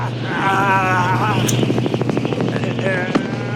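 Helicopter in the 1987 film The Running Man, a steady loud rotor drone with a rhythmic chopping beat running throughout, with dialogue and shouting in the film over it.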